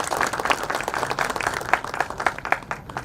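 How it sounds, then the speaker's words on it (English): Clapping from a conference audience at the inaugural session of an international technology conference, a lively, fairly close patter of many hands with distinct individual claps throughout. "Please give them a big round of applause"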